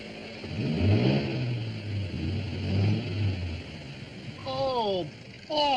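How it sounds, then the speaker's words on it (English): A car engine runs steadily with a low, even hum for several seconds, fairly loud and close, while voices talk over the later part. "Listen to that engine purr."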